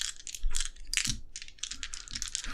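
A voice imitating a clickety-clackety clicking sound, a rapid run of dry, bright ticks in irregular bursts, close and fairly loud, with no other talk.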